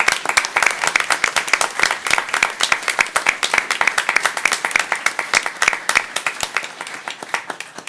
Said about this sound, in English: So let's give him a round of applause.